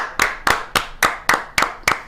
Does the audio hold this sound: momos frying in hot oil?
no